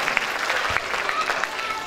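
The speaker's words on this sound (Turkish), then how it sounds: "Alkış." Audience applause at a school puppet show about water saving, with a dense patter of clapping across the whole short stretch and faint voices mixed in.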